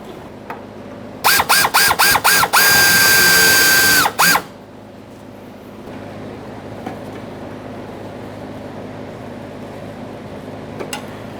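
A hose clamp on the fuel filler neck of a 1992-1996 Toyota Camry is tightened by hand, with a quick series of loud mechanical bursts and a whirring tone up close, then a quieter steady background hum.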